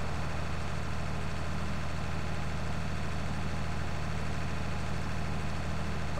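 A 150 hp tractor in Farming Simulator climbing a steep mountainside, a constant loud low diesel drone with steady rumble and no variation, alone without talk.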